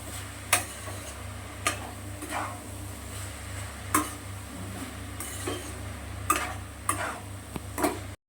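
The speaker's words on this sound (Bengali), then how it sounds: "কুচানো পেঁয়াজটা দিয়ে দিচ্ছি।" Chopped, drained onion goes into a pan to fry, giving a faint soft sizzle broken by sharp, regular utensil clicks and scrapes over a low steady hum, with no talking.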